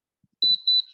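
Noxxa electric pressure cooker sounding two short, high electronic beeps in a row while steaming, close and clear, with faint clicks from the appliance underneath.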